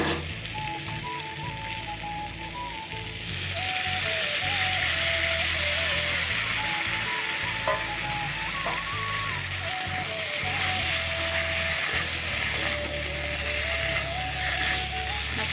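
Potato and cauliflower curry frying in a pan as spices go in, a continuous hissing sizzle that grows louder after a few seconds and holds steady, with faint background music.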